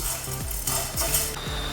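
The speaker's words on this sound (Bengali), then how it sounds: "সবগুলোকে আমি ভেজে নিচ্ছি" Fennel seeds, coriander, dried chillies and whole cumin are dry-roasted in a pan, giving a steady close sizzle with repeated scraping stirs of a spatula against the metal at a loose rhythm.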